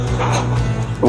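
Puppies at home yipping and whimpering close by, a couple of short, high-pitched barks over a steady indoor hum.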